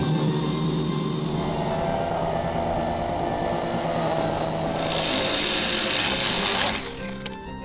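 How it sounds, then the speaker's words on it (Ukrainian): A small electric saw whines continuously as it cuts wood, loud and close, its tone rising near the end as the cut finishes and the motor winds down. "В цьому випадку будемо використовувати невелику електропилку."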